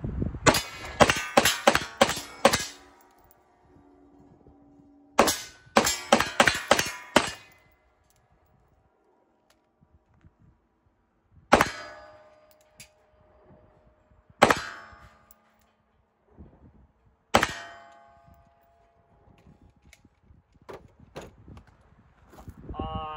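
Shadow Systems MR920 pistol shots ringing off steel targets: rapid strings of sharp cracks with metallic clangs, then slower single shots spaced a few seconds apart, loud and close.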